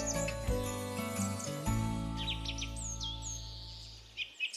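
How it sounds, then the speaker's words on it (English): Short cute jingle introducing an early bird deal on a live sewing show, with bright tinkling tones and bird-like chirps over sustained low notes, fading out with a few final chirps. "Love that little jingle. How cute is that?"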